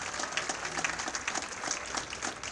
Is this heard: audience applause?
yes